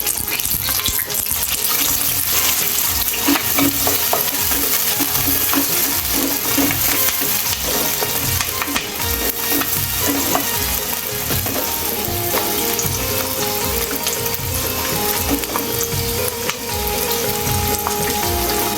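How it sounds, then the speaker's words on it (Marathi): Chopped onion roasts in a hot pan with curry leaves for a field-bean vegetable curry, giving a loud, steady, dense sizzle and crackle throughout, with occasional scraping stirs and no talking. "दोन मिनटं आपला कांदा भाजून घेऊ"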